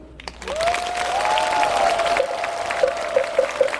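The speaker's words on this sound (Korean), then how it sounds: "다시 한번 큰 박수 부탁드리겠습니다" Steady applause from a crowd at a Buddhist ceremony at Beopjusa temple, with a long rising whistle-like tone running through it and a few repeated short beeps near the end.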